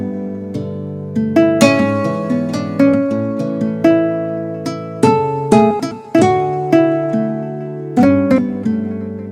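Plucked nylon-string acoustic guitar sample from an MPC expansion, played as a slow melodic phrase of distinct notes and chords with clear attacks and ringing decay, close and alone with no talking.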